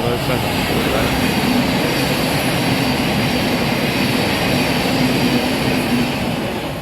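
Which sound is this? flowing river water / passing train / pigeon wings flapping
passing train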